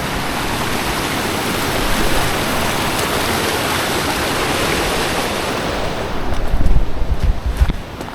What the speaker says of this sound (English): That water's coming down off of the mountains there.